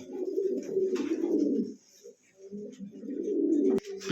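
A pair of fancy pigeons coos close by in deep, repeated throaty bursts, with a brief pause between two long stretches of cooing.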